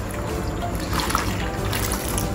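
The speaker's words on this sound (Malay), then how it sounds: "Okey, saya bilas dengan 4 cawan air." Water pours steadily into a rice flour mixture, producing a close, continuous trickling and splashing without talk.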